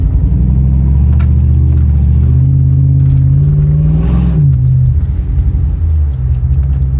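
A cruising car idles and rolls with a deep, steady engine rumble and hum, loud and close, with a brief rise in pitch midway during a street cruise night.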